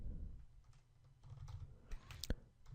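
Rapid keystrokes on a computer keyboard as code is typed, an uneven run of close, light clicks with a few sharper, louder taps near the end, heard alone without talk.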